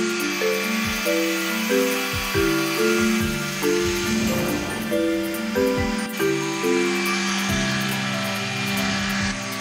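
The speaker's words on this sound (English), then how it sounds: "This is the finest grade of sandpaper and the surface is polished wet." Fine sandpaper rubs wet across an etching plate in a print studio, a steady rhythmic back-and-forth scrubbing repeated many times, close and fairly quiet, over a constant background hum, without speech.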